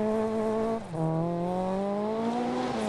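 An MG rally car races on a special stage in the BCCC, its engine revving hard and close, with a quick dip at a gearshift before it pulls strongly again.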